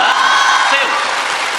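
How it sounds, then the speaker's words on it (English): A table tennis crowd cheering for Wang Chuqin at a WTT Champions Macao quarterfinal, heard as a dense, loud roar of mixed cheers and shouts that holds steady and eases off slightly toward the end. "the crowd, particularly the WANG CHUQIN fans, have just been waiting to explode into noise here"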